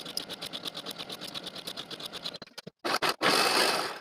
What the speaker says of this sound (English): pin and sew your side seams. Sew with a 5/8 inch seam allowance and then serge